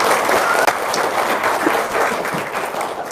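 Audience applause at an Indonesian religious prosperity seminar, a dense, steady wash of many hands clapping at close range for about three seconds.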